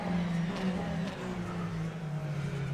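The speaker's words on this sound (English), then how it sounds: "You can hear when he picks up the throttle there" A Porsche RSR Cup race car in a racing video game, on the Mondello National circuit, holds a steady droning engine note as the throttle is picked up, a continuous mid-level hum with no talk.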